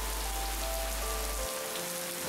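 Steady, dense rain hissing continuously with a low hum beneath it, no voices.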